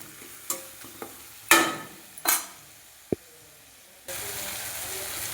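Onion and garlic with salt are stirred in a pan, giving scattered spoon scrapes and clinks against the metal, followed by a steady sizzling hiss that swells near the end. It is close, with no talking.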